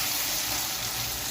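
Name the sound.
frying masala with tomatoes and turmeric in a pan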